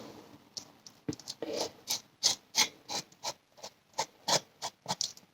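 Spoon scraping juicy mango flesh, a series of irregular close rasping scrapes and soft wet rubs of varying loudness, with no talk.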